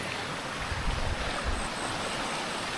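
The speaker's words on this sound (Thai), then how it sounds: "โอ้น่าจะเป็นน้ำน้ำที่ ไหลจากน้ำตก พิโตโกมา" Water rushes from the Pitugro waterfall in Thailand during the rainy season, a loud, continuous broadband roar with low rumbling surges and no voices.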